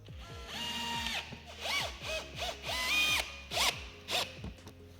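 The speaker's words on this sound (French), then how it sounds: "et on visse." Screws being driven with a power drill to fix a panel onto a partition wall, several short whirring bursts rising and stopping, close and clear with ratcheting clicks.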